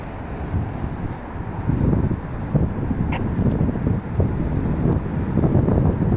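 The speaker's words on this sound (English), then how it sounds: "It's getting slightly windy. Normally you get a little breeze off the sea, don't you?" Wind blowing in off the sea at a Belfast waterfront, a steady low rushing buffet across the microphone with gusts swelling and easing throughout.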